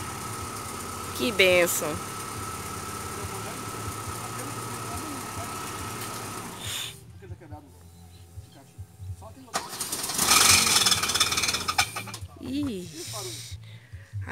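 A repaired family car's engine cranks, catches and runs in rough, uneven bursts, then sputters and fades before cranking again, loud and close, while adults and small children talk over it.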